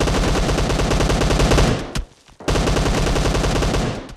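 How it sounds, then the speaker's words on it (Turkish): Rapid bursts of SLR rifle gunfire in the shooter game PUBG Mobile, loud and close, a continuous volley broken by a short pause before firing resumes. "Bak SLR atıyor birisi"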